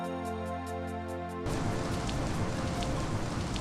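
Rain falls steadily on a road surface as a dense, even hiss. It starts abruptly partway through after a short stretch of a different droning tone.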